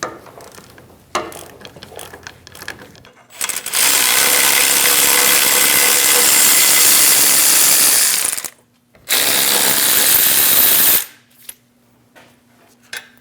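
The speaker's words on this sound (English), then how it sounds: "Using a 21mm socket, we're going to remove the two caliper bracket bolts" A power ratchet spins off the caliper bracket bolts on a 2001-2006 Chevrolet Silverado 2500 HD with a 21mm socket, two loud sustained bursts of whirring clatter separated by a short pause, with quieter clicks before and after.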